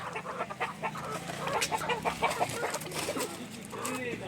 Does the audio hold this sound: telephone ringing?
no